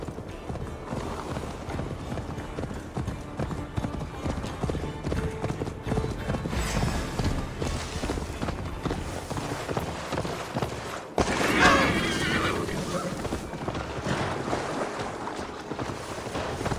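Horse hooves pounding rapidly in Assassin's Creed Valhalla, a steady galloping clatter over rushing wind, with a louder gust of noise partway through.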